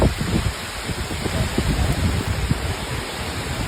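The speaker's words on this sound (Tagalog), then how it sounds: "Wah, mabasa na sa ulan." Steady rain falling outdoors, a broad continuous hiss with irregular low patters and drips close by, constant throughout.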